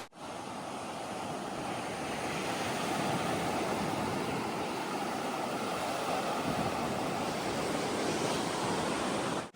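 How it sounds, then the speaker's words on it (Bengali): Sea waves break on an empty Bagda beach in Odisha at high tide, making a steady, loud, continuous roar of surf with a wind-like hiss and no voices. "যেখানে আছে শুধু সমুদ্রের গর্জন"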